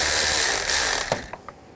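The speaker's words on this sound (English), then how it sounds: "Using a 10 millimeter socket, loosen up this worm clamp." A ratchet with a 10 mm socket loosening a worm clamp on a 2004-2009 Toyota Prius gives a close, rapid clicking that stops, followed by a few separate taps.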